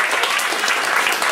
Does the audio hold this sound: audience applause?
yes